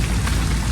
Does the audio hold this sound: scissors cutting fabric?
no